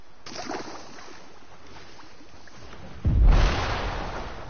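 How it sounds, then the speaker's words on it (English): A grenade bursts inside a hatch in Fortnite, a sudden loud low boom arriving after a quieter stretch of muffled rumbling, then a lingering roar that slowly fades. "what if I throw grenades in the hatches?"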